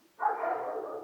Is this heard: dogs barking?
yes